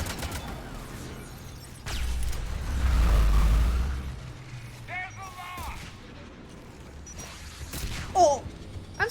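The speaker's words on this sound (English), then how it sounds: "did that rocket just whiz by me?" Heavy explosive roars and blasts sound during Mass Effect 3 combat. A deep rumbling surge swells and fades, and sharper impacts and alien screeches follow, all close and loud within the battle noise.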